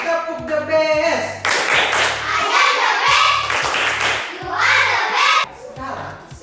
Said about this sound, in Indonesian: Kita berikan tepuk the best.